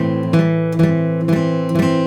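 A guitar chord strummed four times at an even pace, each strum ringing with a slightly dull, buzzy string muted by a stray finger.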